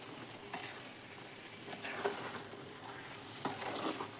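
Semolina cooks for upma in a pan after water is added, with a spoon scraping and stirring through a soft, bubbling sizzle and occasional sharper knocks.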